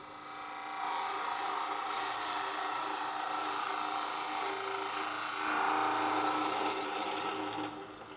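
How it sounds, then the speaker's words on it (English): A spindle gouge cuts the end of a spinning cherry wood lidded box on a lathe, a steady loud scraping whir that holds for about seven seconds with a brief swell midway. "We'll just use our spindle gouge for that."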